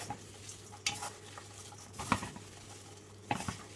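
Orchid potting media with cut strands being mixed by hand, giving soft rustling and crunching scrapes with three louder stirring bursts against a quiet background.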